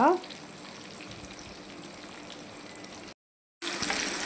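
Fish with onion and chilli masala frying on a low flame gives a steady, soft sizzle throughout, broken by a brief silent gap near the end before the frying resumes slightly louder.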